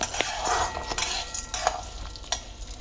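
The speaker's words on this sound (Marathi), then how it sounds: "आपल्याला थोडंसं मंद आचेवरती भाजून घ्यायचं, आपल्याला चांगलं तेलामध्ये छान परतून घ्यायचंय" Spices fry and are stirred in oil over a low flame, with a soft sizzle and scraping and clinking of a utensil against the pan, fairly quiet throughout.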